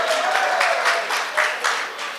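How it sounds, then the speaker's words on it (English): Short burst of audience applause with a few stronger pulses of clapping, moderately loud and steady for two seconds, with no voices over it. "We all get applause."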